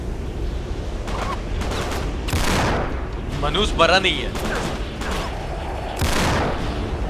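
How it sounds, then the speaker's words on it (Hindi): Bursts of gunfire in the video game Uncharted 3: Drake's Deception crack and boom repeatedly at close range, with voices speaking over the shots. "कोई तो गोली चला रहा था"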